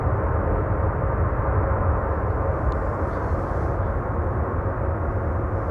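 Airliner landing at Amsterdam Schiphol with thrust reversers deployed, a steady heavy low roar and broadband rumble that holds loud and even throughout, with no voices.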